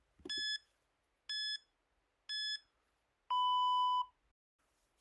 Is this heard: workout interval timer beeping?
yes